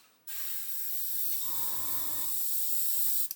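Iwata airbrush firing a test spray onto a sheet of paper, a steady close hiss of air and paint running for about three seconds with a brief lower mechanical rumble midway.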